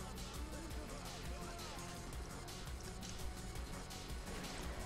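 Dark, droning ambient music from the survival horror game Stalker, with a dense, murky texture, steady and unbroken throughout, creating a tense, ominous atmosphere.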